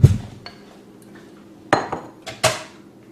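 A spatula scrapes and taps against a crock pot while smoothing out tamale pie, with a few sharp clinks and knocks spaced apart in a quiet kitchen.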